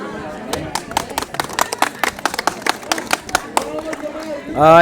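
Pilgrims at a dindi halt on the road to Pandharpur clap in a rapid, uneven burst, many sharp hand claps layered together, with voices calling out and rising chanting near the end.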